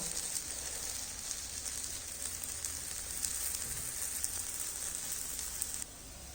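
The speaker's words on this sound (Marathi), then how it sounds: "खालची साईड पण अशीच आपण भाजून घेणार आहोत" Jowar flour bhakri roasting on a hot pan gives a steady, soft sizzle with faint crackles, continuous and close, with no talking.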